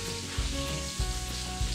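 Bacon strips sizzle and crackle steadily in a hot frying pan while a German Lyonerkuchen is being made, with a few louder low bumps from stirring or moving the pan, close and continuous.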